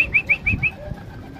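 A racing pigeon from a young-bird race out of Pagudpud arrives at the loft, giving four quick, close, high whistling pulses in a steady rhythm that fade into a quieter background.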